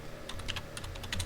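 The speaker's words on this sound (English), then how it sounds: "I'm typing around my microphone" Computer keyboard typing close to the microphone, a quick run of light key clicks in uneven bursts over a low background hum.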